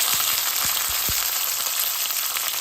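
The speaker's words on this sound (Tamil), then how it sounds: "இப்போ மீன் குழம்புக்கு ஒரு சத எண்ணெய் விட்டு பூண்டு பச்சை மிளகாய்" Garlic and green chilies frying in hot oil for a fish curry give a constant close sizzle, with a few soft knocks of stirring near the start and no talk.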